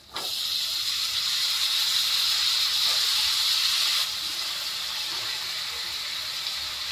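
Potatoes with coriander hit a hot pan and set off a steady, close sizzling hiss that begins abruptly, stays loud for several seconds, then eases slightly and keeps going.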